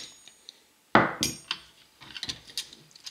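Metal parts of an SKS rifle clink and clatter while it is being disassembled, the firing pin and bolt handled up close: one sharp knock, then a run of light taps and scrapes.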